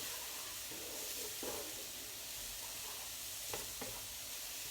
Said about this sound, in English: I'm going to fry these vegetables up